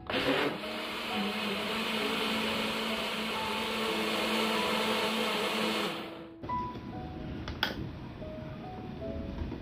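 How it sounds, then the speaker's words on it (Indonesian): An electric blender whirs steadily for about six seconds while mixing batter of liquid full cream milk and melted margarine, then cuts off, leaving quieter kitchen noise with a few clicks and knocks. "Blender kembali semua bahan hingga tercampur rata."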